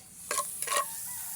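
Garlic stirred in a cooking pot: two short scraping, sizzling strokes close up, then a quiet, steady simmer.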